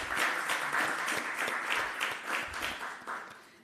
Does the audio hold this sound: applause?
yes